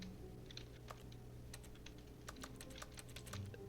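Keyboard typing plays when the interact button is pressed in The Stanley Parable: Ultra Deluxe, a run of quiet, irregular key clicks over a low background hum.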